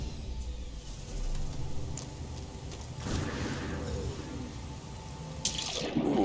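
A plunge into water in No Man's Sky sounds like a rushing splash and churning, bubbling water that swells and eases over several seconds, with a final sharper splash, and no voices.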